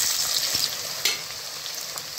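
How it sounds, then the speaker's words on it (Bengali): Two large chopped onions sizzle steadily in hot oil for a chicken kosha, a dense, continuous crackling fry with a few louder spits and stirring bumps, close and loud with no voices. "পেঁয়াজটাকে আমি কুচি করে নিয়েছি। এবারে আমি তেলের মধ্যে দিয়ে দেবো।"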